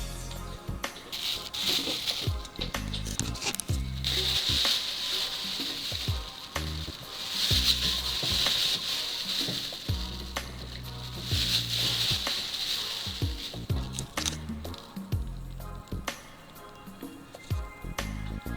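Soil is stirred in water for a pH test, giving a soft, continuous gritty swishing and scraping with faint clicks from the stirring sticks, close by and quiet, with no talking.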